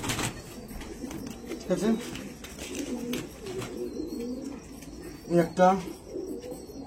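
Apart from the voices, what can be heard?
pigeons cooing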